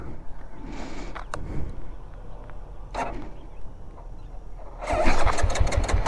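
A TVS Apache RTR 200 motorcycle with a suspected seized engine is cranked over several times, with scattered mechanical clicks and thumps before a louder burst of engine noise near the end.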